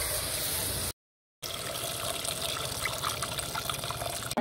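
Boiled tamarind water poured into a simmering curry in a home kitchen, a steady close liquid stream with a brief break, then pouring resumes continuously without talk.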